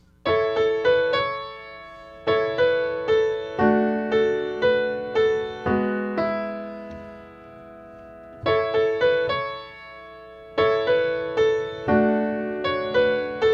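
Plucked guitar chords ring out in repeated strummed bursts while a single melody line carries over the top, with brief pauses between phrases; no talking.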